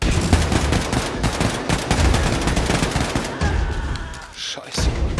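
Dense, loud automatic gunfire in The New Colossus video game, rapid bursts of shots and impacts crowding together almost without pause before a brief dip and a fresh volley.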